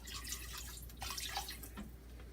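About half a cup of regular white vinegar poured into a container while making a chicken marinade, a soft, fairly faint liquid trickle with small drips over a steady low background hum.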